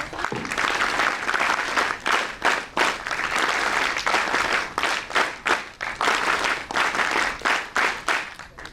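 An audience claps through a welcome at the inauguration of a National Integration Camp at NSUT Delhi, steady applause in repeated bursts with brief dips between them, fairly close and full-sounding.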